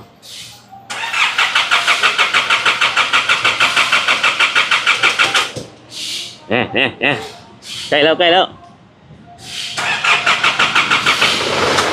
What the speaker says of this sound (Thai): โอ้เครื่องยนต์สตาร์ทขึ้นมา